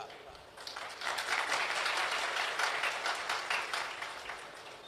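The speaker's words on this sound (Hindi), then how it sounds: "अब ताली तो बजा रहे हो" Audience applause at a religious discourse, a steady dense wash of clapping building after the first second and holding fairly loud before easing slightly at the end.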